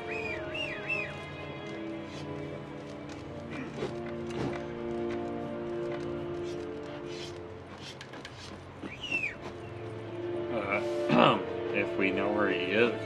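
In The Witcher 3, a whistle calls the horse Roach, followed by hoofbeats clip-clopping amid a musical score, with some birdsong and someone talking over it.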